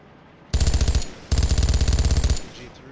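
Machine gun fire in the tank simulator game Steel Beasts comes as two loud, close sustained bursts of rapid rhythmic shots, a short one and then a longer one, with a brief pause between them.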